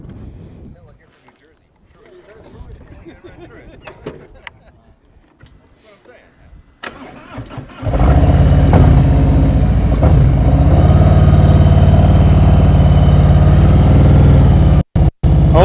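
A motorcycle engine during slow-speed riding practice: after several quiet seconds of faint handling noise, the engine comes in loud and close and keeps running with a steady throttle drone, with two brief dropouts near the end.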